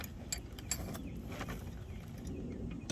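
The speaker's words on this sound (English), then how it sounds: "Nice size wrench, get you some leverage on that right there." A large wrench works on a big brake assembly, giving quiet mechanical creaks and ratcheting clicks at a steady, slow pace, close by and faint, with no talking.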